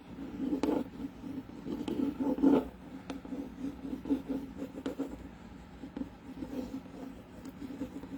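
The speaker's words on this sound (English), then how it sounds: "Scrape it on." Metallic foil transfer being scraped onto a surface makes faint, close, irregular rubbing and scratching strokes with no talking.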